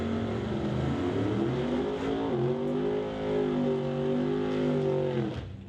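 A drag racing car revs at a racing event, its engine holding a loud, rising and falling roar for several seconds before cutting off abruptly near the end, with no one speaking over it.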